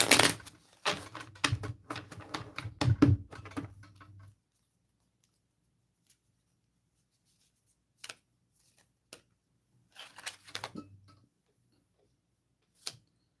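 Tarot cards are shuffled up close in a rapid, crisp riffle of clicks lasting a few seconds, then scattered faint taps and a short second flurry of card noise amid silence.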